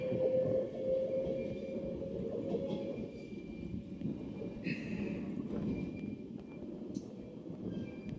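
A train pulls out of Warrington Bank Quay on the West Coast Main Line with a rumbling, rolling roar of wheels and carriages, and brief squeals and clanks rise over the steady rumble.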